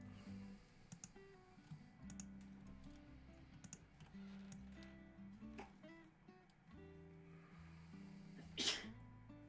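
A single sharp sneeze bursts out near the end amid quiet computer keyboard typing and soft clicks at a game developer's desk, with faint background hum throughout.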